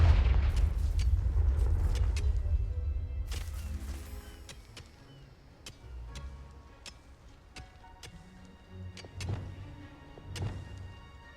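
Confringo fire-blast spells in Hogwarts Legacy set off a heavy rumbling explosion, followed by scattered sharp cracks, ticks and smaller booms of debris and impacts, fading and then flaring again near the end.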